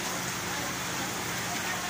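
Steady rain falling on a flooded market, a continuous dense hiss with no breaks, loud and close, with faint voices underneath.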